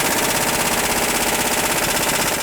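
A pneumatic impact gun with a 24mm socket hammers loose the front lower control arm bolt on a 2002-07 Jeep Liberty, giving a loud, continuous rapid rattle for the whole stretch.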